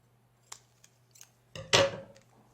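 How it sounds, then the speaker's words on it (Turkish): Scissors snip a sheet of paper in half while crafting a woven paper crown, giving a few light clicks and then one loud, close crisp cut with a rustle. "Şöyle yarısını kesiyorum."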